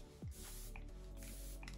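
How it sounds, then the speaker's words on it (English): e.l.f. Stay All Night Micro Setting Spray is misted onto a made-up face in a couple of close, airy hissing bursts over a low steady background. "Stay All Night Micro Setting Spray."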